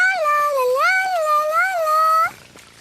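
A cartoon cat lets out a long, wavering, drawn-out meow, loud and close, rising and falling in pitch before cutting off abruptly.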